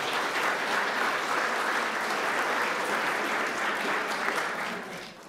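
An audience applauds at a speaker series event on the ethics of eating, with a dense, sustained wash of clapping that holds steady for about five seconds, then begins to thin and fade at the end.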